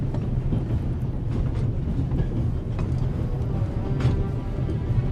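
Steady low rumble of a train rolling along the track in the adventure game The Raven, a continuous heavy drone with faint clicks and rattles, no voices over it.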